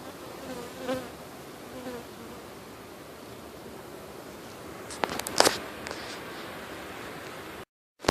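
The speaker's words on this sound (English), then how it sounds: "have coffee in the morning and watch the bees." Steady buzzing of many honeybees close by during a hive cut-out in Auburndale, Florida, a dense continuous drone with a brief louder burst near the end before a sudden cut.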